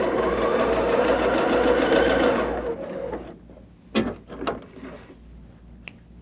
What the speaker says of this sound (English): we come over to the machine, and with the edge stitching foot, we move our needle over to the far left, and we stitch